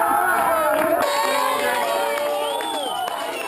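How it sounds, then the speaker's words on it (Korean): Wagenia villagers by the Congo River cheer and shout for the winner of a contest of strength and skill, a dense, loud, continuous mass of excited voices with whoops rising above the babble throughout. "우승자에게 진심을 담은 축하와 환호가 여기저기서 터져나옵니다"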